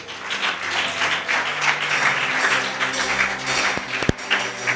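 Church congregation applauding in praise of the Lord, a dense sustained wash of clapping from many hands filling the room, with a brief sharp tap near the end.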